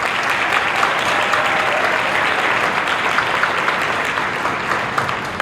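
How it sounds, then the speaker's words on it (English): An audience at a Jack and Jill cotillion applauds steadily in a large room, a dense, sustained wash of clapping from many hands with no talking over it. "Can we give all of our young people who are a part of Jack and Jill and our young people who are here with us this evening"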